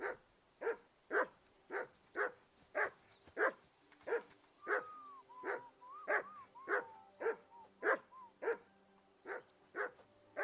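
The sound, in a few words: dog barking in a video game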